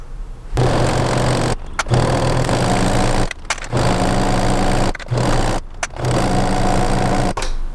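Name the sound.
sewing machine stitching an upcycled bedsheet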